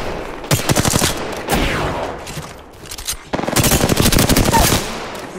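Automatic weapon fire in the battle-royale shooter Apex Legends: loud, rapid bursts of closely spaced shots, a short pause with scattered sounds, then another sustained stream of rapid fire, with occasional player voices.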